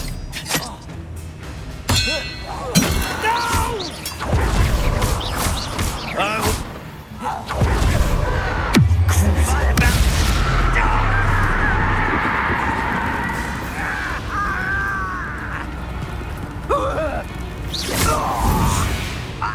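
Spell combat in the video game Hogwarts Legacy, with loud clanging impacts, a deep thud and whooshing blasts over a swelling musical score, with character voices and grunts mixed in throughout.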